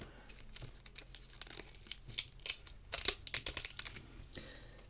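Paper budget envelopes are handled and filled at close range, with quiet crinkling, rustling and light tapping that grows into a cluster of crisp paper clicks near the middle, with no talking.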